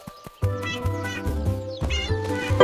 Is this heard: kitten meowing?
yes